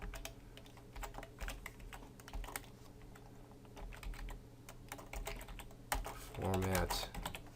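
Close, quiet keystrokes patter irregularly on a computer keyboard as PHP code is typed, a low hum underneath and a brief voice near the end.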